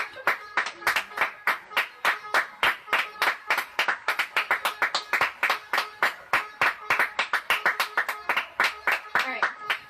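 Neighbours clap rhythmically from their balconies, a steady run of sharp, fairly close claps that keeps going for the whole stretch without letting up.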